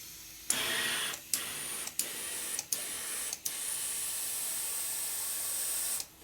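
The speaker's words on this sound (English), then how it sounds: "Tube's blowing up now. 30 pounds, I can see the tire getting bigger like a balloon." Compressed air hisses steadily into a motorcycle tire's inner tube, broken by five brief pauses near the start as the air chuck is reapplied, then a long continuous close-up inflation before it stops.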